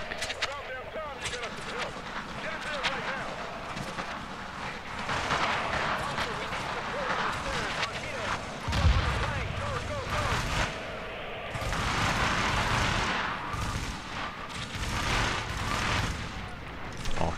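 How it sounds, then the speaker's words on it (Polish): Rolling gunfire and heavy booming blasts, including a grenade explosion, fill a combat scene in Tom Clancy's The Division set in New York, with dense rumbling bursts and someone talking over the action. "Mu granat w ręce wysadziłem."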